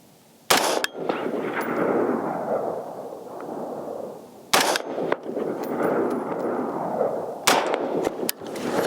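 Five sharp rifle shots from a ZEV Core Combat Rifle fired on a range, spaced unevenly a few seconds apart, each loud crack followed by a long rumbling echo rolling away across open ground.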